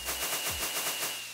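Rapid string of Minecraft fireworks bursting in quick succession, a fast crackling rattle of pops close and loud for over a second.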